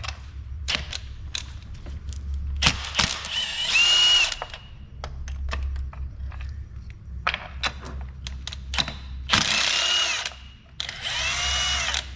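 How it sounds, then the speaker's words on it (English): A 3/8-inch impact wrench driving a 5/8 socket on a 9-inch extension, removing a spark plug from a 2000 Jaguar S-Type. It sounds as repeated short hammering bursts and whirs with brief pauses between them, close and fairly loud, no talking. "we've got our 5/8 on a 9-inch extension with our 3/8 impact"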